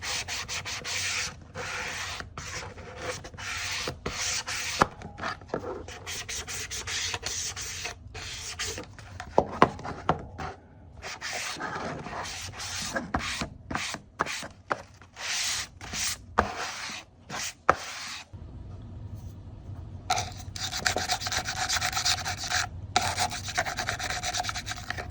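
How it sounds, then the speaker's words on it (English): Hand sanding of a small junk journal tool storage piece gives a steady scratchy rubbing in quick back-and-forth strokes, close and continuous with brief pauses, and no talking. "I'm just giving it a little bit of a sanding."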